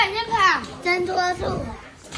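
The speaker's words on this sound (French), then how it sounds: "Ah mais c'est les gosses, ils font que crier." Children at a McDonald's shrieking and shouting while they play, high excited voices rising and falling at close range and fairly loud, with no adult talk over them.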